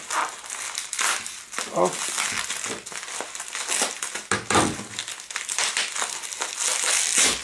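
A well-packed parcel of hobby supplies being unwrapped, with steady crinkling and crackling of packing material close by, broken by sharp tearing bursts while someone talks briefly.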